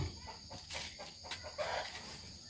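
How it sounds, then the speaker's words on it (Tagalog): Chickens cluck softly in the distance over a faint outdoor background, their calls coming in short, scattered bursts. "Ang mga manok."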